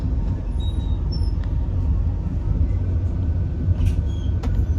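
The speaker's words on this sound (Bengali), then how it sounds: "ট্রেন চলতে শুরু করেছে" A Grand Trunk Express passenger train heard from inside a carriage as it starts moving, a steady low rumble of wheels and running gear with faint high squeaks and clicks from the rails.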